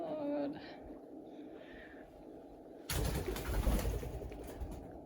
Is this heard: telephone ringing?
no